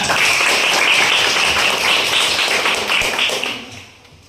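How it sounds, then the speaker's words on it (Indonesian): A classroom of students applauding together at a teacher's prompt, a dense, steady patter of many hands that holds loud for about three seconds before tapering off and fading out. "Ya, tepuk tangan semua."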